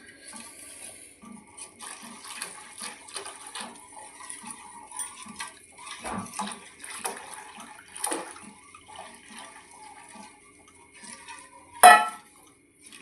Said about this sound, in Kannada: ಈಗ ನೋಡಿ ಫ್ರೆಂಡ್ಸ್, ಇದಕ್ಕೆ ಬೆಲ್ಲದ ನೀರನ್ನು ಹಾಕೋಣ